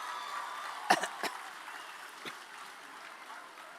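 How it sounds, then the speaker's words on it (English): Faint, distant applause from a school audience at Sankara School, a soft steady patter of many hands with a couple of louder nearby claps and a cough. "So you should give a good round of applause."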